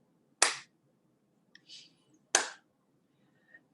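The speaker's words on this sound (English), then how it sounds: "And then you can clap into the right hand." Two sharp single hand claps a couple of seconds apart, loud and close in a quiet room, with faint soft rustling between them.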